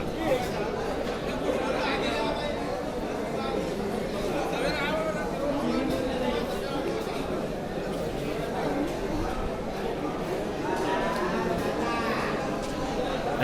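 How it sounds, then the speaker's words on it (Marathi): Dense buffalo market ambience at Sambhajinagar (Aurangabad): dairy buffaloes low and moo among constant crowd chatter and nearby talking, a busy, steady din throughout. "दुधाच्या म्हशी मोठ्या प्रमाणात आलेल्या आहे"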